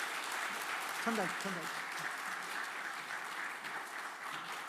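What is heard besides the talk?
applause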